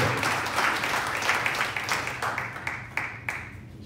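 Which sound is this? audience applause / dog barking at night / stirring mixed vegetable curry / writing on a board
audience applause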